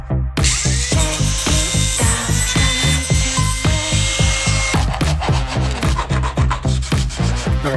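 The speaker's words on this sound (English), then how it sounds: "Got an old cut-off wheel and a Dremel tool." A Dremel rotary tool fitted with an old cut-off wheel grinds through plastic buttons on a scratch-built model, a loud continuous whine with a rhythmic rasping pulse as the wheel bites, close up and without talk.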